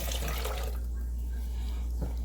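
Bean liquid pours and splashes into a pot for a couple of seconds over a low steady hum, close by.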